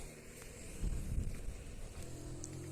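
Jet skis passing on open water at a moderate distance, a steady low engine drone that swells briefly and fades, with wind buffeting the microphone throughout.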